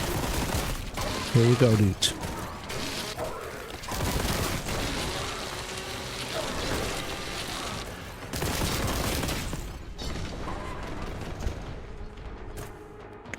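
Rapid weapon fire from the Warhammer 40K: Boltgun shooter game, dense bursts and booms running almost continuously with some game noise, while someone talks over the action.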